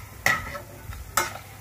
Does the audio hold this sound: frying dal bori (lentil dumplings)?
yes